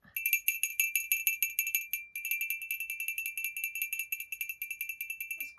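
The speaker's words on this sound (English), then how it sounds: "Here we have a goat bell." A small goat bell rings continuously, shaken in quick, even strokes for several seconds with a bright metallic tinkle and a brief pause midway; close and clear, with no voices.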